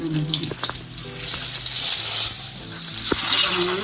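Steady hiss of cinnamon frying in hot oil in a pan, loud and close, with a few faint clinks and no talking.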